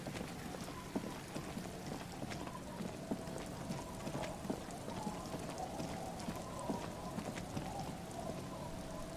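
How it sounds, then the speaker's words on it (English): Steady rain patters continuously on a surface in the video game Disco Elysium, a soft even hiss with scattered drop ticks, fairly quiet and without voices. "It's raining right now"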